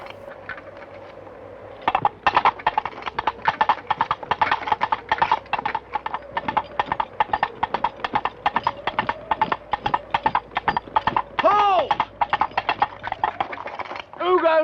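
Coconut shells knocked together imitate horse hooves in a film scene set around Camelot, a brisk, steady clip-clop that runs loud and close almost the whole way through.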